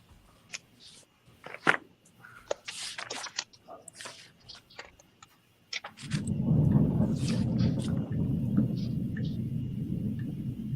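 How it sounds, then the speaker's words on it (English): Thunder rolls in as a long, low rumble that sets in partway through and holds steady, after a stretch of clicks and handling noise. "Not yet. It's just thundering."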